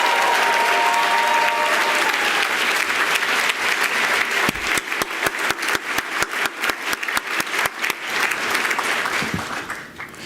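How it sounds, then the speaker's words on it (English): A large crowd applauds loudly at a graduate recognition ceremony, the steady wash of clapping gradually breaking into scattered individual claps before fading out. "Can we also give a warm round of applause to our staff and our student workers"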